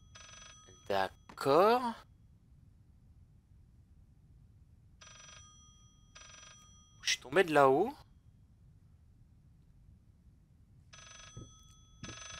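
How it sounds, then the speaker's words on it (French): An old telephone rings in the horror game Layers of Fear, coming in three separate bursts of trilling bell tones, with someone speaking between the rings. "Alors le téléphone qui sonne"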